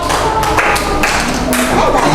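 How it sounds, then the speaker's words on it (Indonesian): A small group claps for a presenting team in a classroom-style session, steady moderately loud clapping with a few louder individual claps, while voices murmur faintly beneath. "beri tepuk tangan buat kelompok 1"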